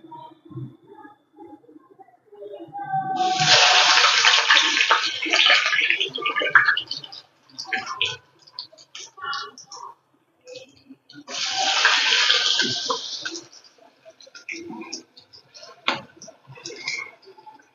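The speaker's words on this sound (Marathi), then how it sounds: "अशा प्रकारे आपल्याला सर्व रोल तळून घ्यायचे आहेत। हे पहा किती सुंदर असे मस्त फ्राय होत आहेत।" Potato and pea rolls deep frying in hot oil, with two loud bursts of bubbling sizzle and quieter crackling and spoon clinks between them.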